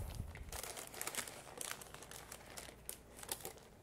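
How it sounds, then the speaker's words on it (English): Baking paper crinkles and tears softly as it peels away from a baked nut cake layer for a Hungarian trifle, faint close-up rustling in short bursts. "I'm going to fold it over and just let the paper just come right off"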